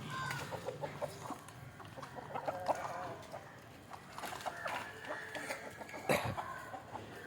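Free-range country chickens cluck in a coop, a scattered run of short, close calls with small bursts of activity, over a low background murmur.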